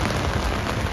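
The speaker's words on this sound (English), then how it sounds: "I don't even know if you can hear me over the sound of the rain on the umbrella" Steady heavy rain drumming on an umbrella during a downpour at a roadside stop along Route 66, a dense continuous patter filling the whole second with no pauses.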